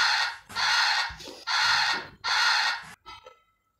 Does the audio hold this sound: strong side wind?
no